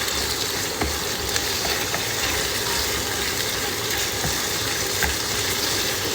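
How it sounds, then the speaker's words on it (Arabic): Chicken breasts and onion fry in olive oil in a pan, giving a steady close sizzle with faint occasional stirring clicks and no talking. "حمر البصل، حطيت صدور دياي"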